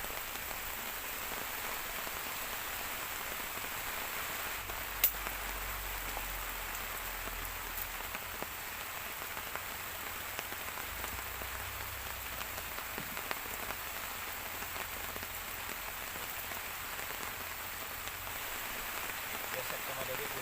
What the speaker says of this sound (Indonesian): Masih hari hujan.